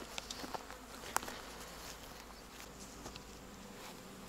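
A hornet buzzes faintly around a beehive entrance in an apiary, a thin intermittent drone over a low outdoor hum with a few soft ticks, no voices.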